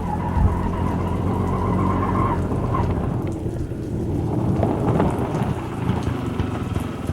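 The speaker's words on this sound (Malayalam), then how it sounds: "എന്നാ ഒരു മഴയാ" Heavy rain with thunder forms a dense, steady roar that fills the whole stretch, loud and close, with deep low rumbling underneath and no talking.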